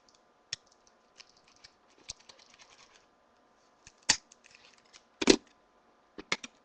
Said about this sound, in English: Then you get your scissors and just